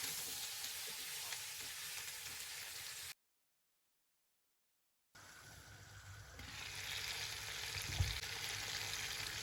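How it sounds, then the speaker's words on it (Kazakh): Mushrooms and potatoes fry in a pan with a steady, close hiss of sizzling oil, broken by a short gap of silence before the sizzle resumes with a brief stir. "үстіне картошкамызды салып, оны да біраз араластыра отырып, 5-10 минут көлемінде жақсылап қуырып алатын боламыз"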